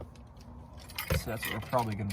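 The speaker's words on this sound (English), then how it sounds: "Put the keys in here." Car keys jangle close by with bright metallic clinks in a few short bursts, mixed with low handling bumps.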